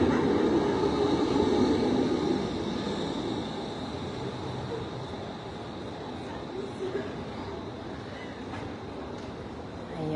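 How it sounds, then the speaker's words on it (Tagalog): A train passes through the city of Bern, Switzerland, a fairly faint rolling rumble that fades after the first few seconds, with street ambience around it. "Yan ang train."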